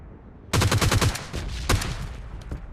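Gunfire in a PUBG Lite gunfight, a rapid burst of close automatic shots followed by scattered single cracks and fading reports.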